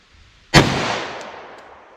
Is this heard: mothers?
no